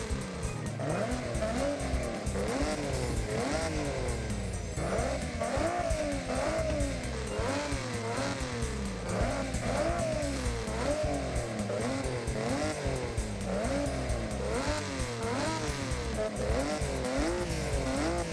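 A rally car in Forza Horizon 6 running its stock raspy exhaust, the engine revving up and down in repeated rising sweeps with gear changes, loud and continuous throughout with no talking.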